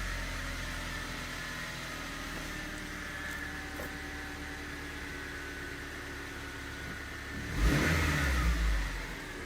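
A car engine cranks slowly on a weak battery, a steady low churning drone that swells and grows louder near the end as it catches for a moment, with no talking.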